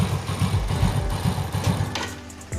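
A Yamaha Vega motorcycle engine idles close by with a rhythmic low chugging, running rough, then a brief mechanical creaking clunk near the end as it is put into gear.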